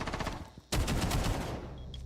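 Rapid automatic gunfire in a Rainbow Six Siege match, with a burst of shots, a short pause, then a louder, denser volley of repeated cracks that carries on steadily to the end, close and loud with no talking.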